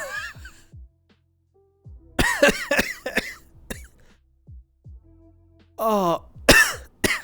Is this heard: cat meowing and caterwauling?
no